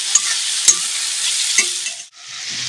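Onions, tomatoes and chopped green chillies fry over a low gas flame in a pan, giving a steady close sizzle broken by a few sharp stirring scrapes and a brief dip near the end.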